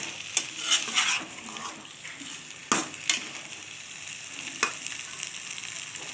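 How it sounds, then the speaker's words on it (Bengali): Chicken sautéing and being turned in mustard oil, a steady close sizzle with occasional sharp spatula knocks against the pan and some soft scraping. "তো এটার সঙ্গে আমি একটু কষিয়ে নেবো উল্টে পাল্টা করে"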